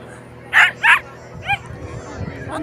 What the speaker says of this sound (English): the doggy